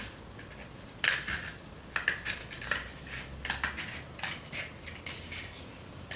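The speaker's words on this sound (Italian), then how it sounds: "meglio con le forbici, più o meno a metà. E taglio un pochino." Scissors cut into material during a craft project, making a sharp snip followed by a series of crisp, irregular cuts. The sound is close and fairly quiet in a still room, with no talking.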